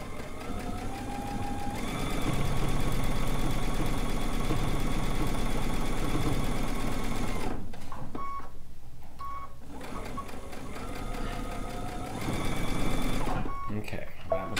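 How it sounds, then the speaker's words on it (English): A sewing machine stitches a bucket hat seam in a steady mechanical whir, running for several seconds, pausing briefly, then resuming before stopping, with someone talking nearby at times. "I'm going to stitch down this first seam"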